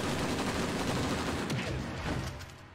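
Sustained automatic rifle fire in the video game The Breakdown, a dense, loud, continuous burst of rapid shots that tapers off at the end.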